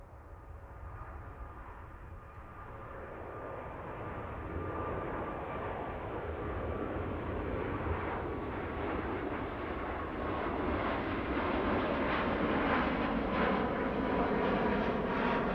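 A British Airways Airbus A350 jet departs Heathrow with a steady, broad engine roar that builds slowly and holds for the whole stretch, distant but loud, with no voices.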